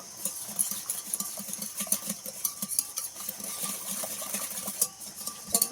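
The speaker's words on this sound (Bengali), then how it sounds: "এবার একসঙ্গে সব কিছু মিশিয়ে দেব একদম ভালো করে মিশিয়ে দিতে হবে" Ingredients being mixed together in a bowl by hand, a spoon clinking and scraping in a quick, irregular rhythm close by, with no talking.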